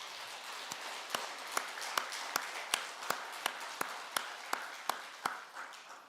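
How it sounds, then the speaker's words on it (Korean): A church congregation gives sparse applause after the choir's hymn, a slow series of single distinct claps at a steady pace, mid-distance in a quiet hall. "찬양대의 감사와 하나님께 영광의 박수 올려드리겠습니다"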